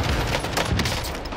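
Dense, overlapping bursts of gunfire crackle throughout a Call of Duty Warzone match, rapid shots rattling at close and middle distance with no clear break.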